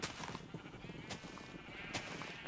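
Minecraft sheep packed into a small pen bleat repeatedly in quick, overlapping calls, close and moderately loud, with no speech.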